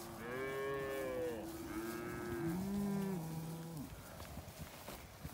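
Red Angus cattle mooing, several long moderately loud lowing calls that overlap one another in the open over faint background noise.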